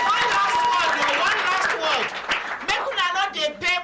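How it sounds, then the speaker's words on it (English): Audience clapping breaks out on a Nigerian call-in radio programme, a dense patter of hands mixed with crowd noise and overlapping talk, ending as a voice comes forward. "Not gonna clap for our mommy"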